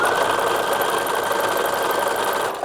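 Sewing machine running steadily while stitching a French seam on a 1930s-1940s infant slip, a continuous even whir held at a constant level throughout without pause or talk.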